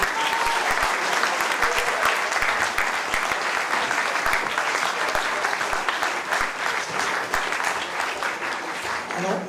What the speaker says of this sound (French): vous pouvez revenir à votre place sous un tonnerre d'applaudissements